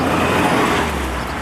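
A car rolling through street traffic in Liverpool, with a steady, continuous road and engine rumble close by and no talking.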